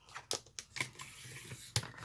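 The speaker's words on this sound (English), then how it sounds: "I'm going to cut off this little edge right here." Scissors snip through a paper edge while trimming pages for journal binding, several quiet close-up cuts with soft paper rustle in between.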